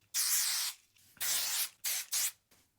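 Kenra Volume 25 hairspray sprayed onto hair at the crown in four hissing bursts: two longer sprays, then two short quick ones, close and fairly loud with brief pauses between.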